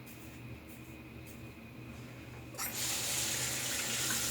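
A tap turns on partway through to rinse a double-edge razor loaded with a Gillette 7 O'clock Super Stainless blade, a sudden rush of running water that keeps flowing steadily after a quieter, still lead-in.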